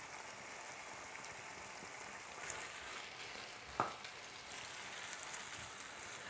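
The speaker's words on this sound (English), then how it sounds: "So let the whole mixture fry for about 5 minutes." Onion, garlic, green chili and spice mixture frying in a pan for a chicken tikka masala, giving a steady, even sizzle with a brief sharp clink partway through.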